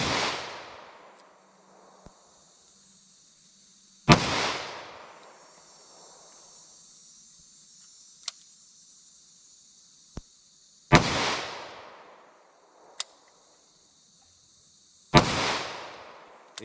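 Four sharp, loud gunshots from a .38 Special snub nose revolver firing Winchester Silvertip rounds, spaced several seconds apart, each with a ringing decay, plus faint clicks between shots and a high steady tone in the background.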